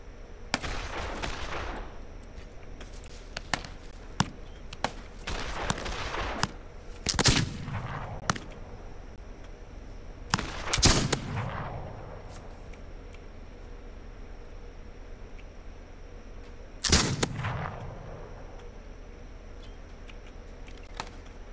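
Gunfire in the video game This Land Is My Land during a settler defense, sharp scattered shots with a few heavier bursts and bigger blasts, separated by quiet stretches, no talking.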